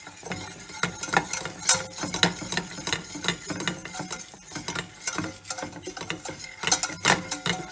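A roux for creamy mac and cheese is whisked continuously in a pan, giving a close, busy clatter of metal whisk strokes and scraping with occasional sharper clinks against the pan.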